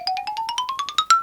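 A mobile phone ringtone sounds alone, a quick run of about a dozen short electronic beeps stepping upward in pitch, ending on a longer held tone.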